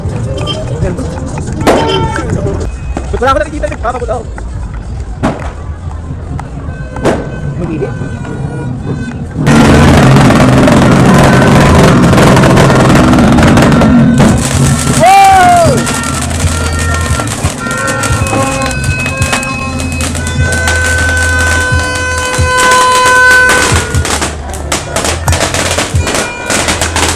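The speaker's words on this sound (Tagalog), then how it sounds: "Ginawa yung fireworks." New Year fireworks exploding outdoors, bursts and crackles scattered throughout, growing louder and denser about halfway through, with whistling rockets and continuous background crackling while people talk nearby.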